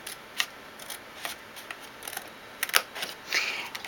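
Scissors snip through the flaps of a fabric tissue pack holder in a quiet room, a few crisp separate cuts spaced out, with a small rustle of material near the end.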